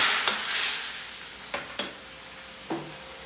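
Chicken adobo with bean sprouts and peas is stirred in a pan, a spatula scraping and clacking a few times over a faint simmering sizzle, quiet and close.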